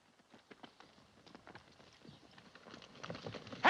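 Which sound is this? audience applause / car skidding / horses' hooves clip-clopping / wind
horses' hooves clip-clopping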